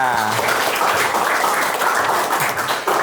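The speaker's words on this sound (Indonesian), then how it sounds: "Oke, tepuk tangan." A classroom of students applauding, a short loud burst of close, dense clapping with some voices mixed in.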